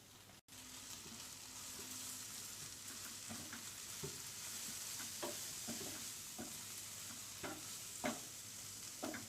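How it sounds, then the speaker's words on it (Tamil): Steady sizzling of coriander powder spice paste frying in oil for mango curry, with scattered stirring clicks and scrapes of a spoon against the pan, no voices. "போட்டு இதையும் நல்லா வதக்கிக்கலாம்."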